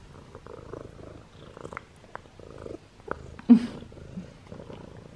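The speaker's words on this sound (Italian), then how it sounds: "Vi sentite le fusa?" A cat purrs up close, a soft steady rumble with a brief louder bump midway, and no talk over it.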